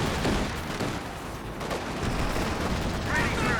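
Centaur anti-aircraft tank firing in Company of Heroes 2, a steady dense rattle of rapid gunfire mixed with battle noise, loud and continuous for several seconds.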